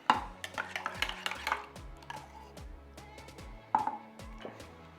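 Espresso martini mix being stirred, with a rapid run of metallic clinks and taps against a glass, then a lone sharper clink after a brief pause.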